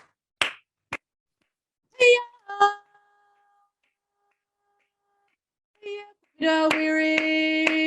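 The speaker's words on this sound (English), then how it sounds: "So I'm going to start clapping." A few sharp hand claps ring out alone in a quiet room at a community health forum gathering, followed by a voice chanting or singing.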